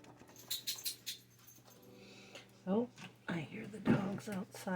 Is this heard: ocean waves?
no